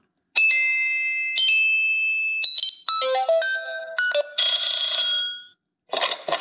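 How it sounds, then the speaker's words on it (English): A Wyze Chime doorbell unit plays through a series of its ringtones: bright electronic dings and multi-note melodic chimes, loud and close, each tune stopping briefly before the next begins, with no voices. "the Wyze Chime has all kinds of, I think it says 19 different"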